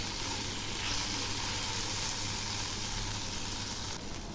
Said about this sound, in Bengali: পেঁয়াজটা সুন্দর ভাজা হয়েছে একদম লাল লাল হয়ে গেছে আবারও একটু নেড়ে দিচ্ছে